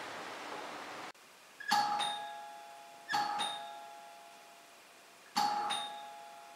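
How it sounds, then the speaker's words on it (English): A doorbell rings indoors, sounding three separate two-tone chimes that are clear and close. Each chime rings out and fades before the next one, and steady background hiss stops just before the first. "they keep ringing at the door"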